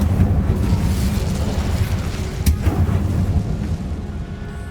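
An Incendio fire spell cast in Hogwarts Legacy, heard as a deep rumbling burst of flame that roars steadily with a sharp crack near the middle, loud and close, without talk.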